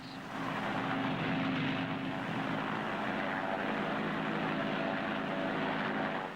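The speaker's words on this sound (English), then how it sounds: "And now it's the turn of the helicopters." Loud, steady roar of military helicopters, including Westland Wessex, Scout and Wasp, passing overhead at an air display, a broad continuous drone that swells and holds without any voices.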